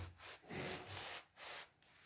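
A cloth wiping along a freshly cut-in edge of wall paint, making soft, faint rubbing strokes in a slow back-and-forth rhythm, close by.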